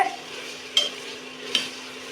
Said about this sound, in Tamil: இப்போ கிண்டிக்கலாம்.